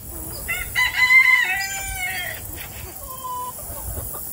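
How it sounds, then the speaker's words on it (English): Backyard homestead chickens cluck and call over a broken watermelon, a burst of squawks and a crow-like call up close, then quieter clucks against faint outdoor background noise. "threw it in there to the chickens. They're going to town on that thing"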